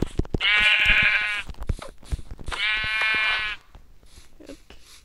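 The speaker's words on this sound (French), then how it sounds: "il y a un mouton noir et un mouton blanc qui ont spawné au même endroit." Two long, wavering bleats from a pair of sheep, one black and one white, in a hardcore survival video game, loud and close with a short pause between them, followed by faint clicks.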